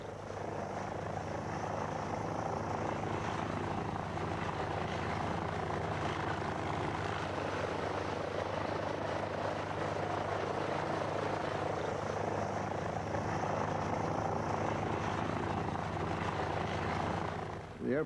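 A vintage biplane's engine drones steadily in flight, a continuous throbbing buzz with a constant tone held throughout, heard from fairly close with no break.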